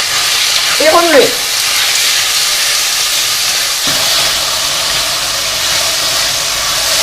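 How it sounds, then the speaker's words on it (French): Pork browning in a pan over high heat gives a steady, loud broadband sizzle and hiss throughout, with a short tonal squeal near the start and no talking. "pour vraiment bien faire dorer la viande. Il faut toujours être sur feu fort"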